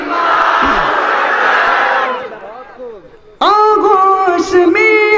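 A large crowd at a religious gathering roars a chanted response to a takbeer call, a loud massed shout that fades away. A single voice then begins singing a devotional naat.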